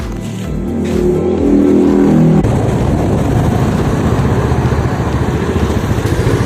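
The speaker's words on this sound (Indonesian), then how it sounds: "kita naik motor guys" Motorbike ridden along a short stretch of road, its engine droning steadily up close with a rough, continuous rumble that builds after an initial rev and carries on without pause.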